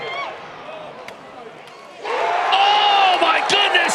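A lacrosse crowd at Bobby Dodd Stadium swells into loud cheering and whoops during a Maryland versus Notre Dame men's game, rising sharply from a quieter murmur halfway through and holding at full volume.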